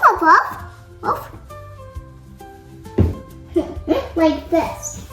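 A voice imitates a dog barking with a run of short, loud woofs in quick succession, close to the microphone, amid playful speech about farm animals.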